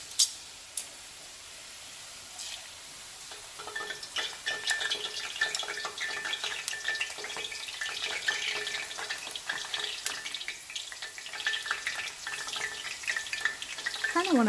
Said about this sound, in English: you're just going to carefully lay it into your fry oil, just like that